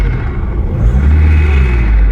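Synthetic car engine sound played through a phone speaker by an app driven by a car's live OBD RPM data, a continuous rumbling drone that swells slightly and holds, with no talking.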